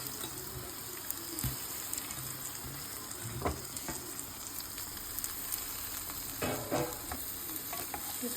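Rice fries in a pan with cashews and raisins for a Bengali-style basanti pulao, producing a continuous close sizzle broken by occasional scraping and clinking as a spoon stirs, with no one speaking.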